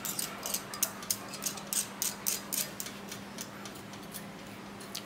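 The screw gate of an aluminum self-locking carabiner is turned, giving a quick series of small, close metallic ticks and clicks that grow sparse and fade out.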